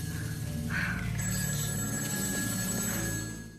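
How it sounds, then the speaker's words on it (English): A telephone rings continuously, its bell tone steady and prominent over a low hum, fading slightly at the end. "the phone continues to ring"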